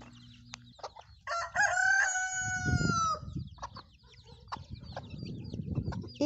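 A rooster crows loudly and close by, a long drawn-out call, with hens clucking and rustling around it.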